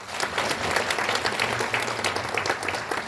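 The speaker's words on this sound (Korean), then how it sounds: "박수 한번 부탁드리겠습니다" An audience at a seminar gives steady, dense applause, the clapping close and sustained for a few seconds with no talk over it.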